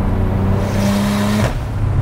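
Tuned 660 bhp BMW 335i with a single-turbo conversion, heard from inside while driving: a loud engine drone drops off sharply as the throttle lifts, ending in a brief whooshing release.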